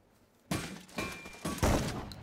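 A door swinging open in the Free Fire battle royale game, heard as a few dull thunks and a scraping, creaking burst after a short quiet lead-in, fairly close and without talk.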